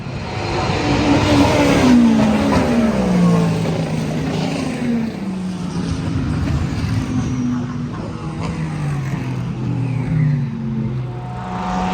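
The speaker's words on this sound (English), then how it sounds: "Race cars." Race cars at Watkins Glen during a six-hour endurance race, engines roaring loudly past a trackside braking zone, one after another with pitch dropping as they pass and downshift, a continuous layered howl.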